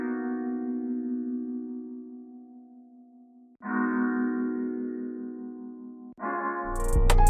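A strummed chord sample processed with EQ, heavy reverb, delay and compression rings out three times, each chord sustaining and decaying with a smooth electronic sheen before the next strike, the last one cut short by a bright burst.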